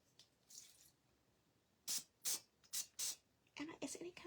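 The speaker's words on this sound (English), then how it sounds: "Go ahead and spray the insides of the rest of your molds." A spray bottle mists the insides of bird feeder molds with four distinct short hissing bursts close by, followed by quieter rapid spritzes. Voices murmur softly nearby.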